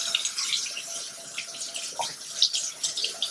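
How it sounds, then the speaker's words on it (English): Warm water running from a tap into a sink while makeup brushes are washed, a steady hissing stream with small splashes and a drip, close and moderately quiet. "So we'll obviously turn on the warm water again."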